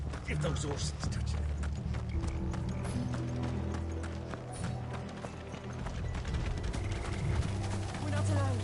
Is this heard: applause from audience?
no